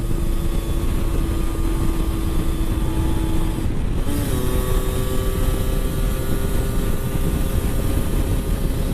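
A small 125cc motorcycle rides along a road near Ploemeur, its engine a steady drone under constant wind rush, the pitch dropping briefly midway as if shifting gear before settling again.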